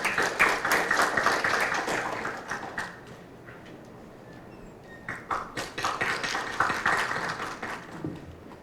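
An audience at a product safety forum general assembly claps to welcome a university professor to the stage, uneven clapping from a modest crowd that dies down midway, then picks up again in a second burst.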